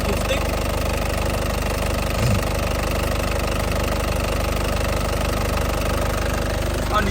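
A hot 2010 Panther LS Turbo diesel engine idling with a steady, rhythmic clatter and low throb, close and constant throughout.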